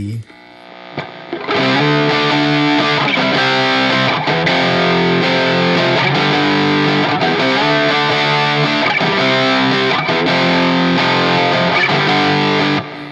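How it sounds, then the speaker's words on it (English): An electric guitar plays through the WO Stone Coral OD amp model on a Lekato Cube Baby pedal. It sounds crunchy and overdriven, with repeated rhythmic chord strums heard alone for about twelve seconds. "Moving on to the next amp, which again is the WO Stone Coral OD"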